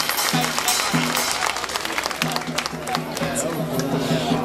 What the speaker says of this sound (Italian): Ruvo ti ha accolta con questo applauso